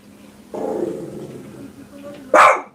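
Pet dog at home giving a short growling bark near the end, after a stretch of quieter muffled sounds and a person talking.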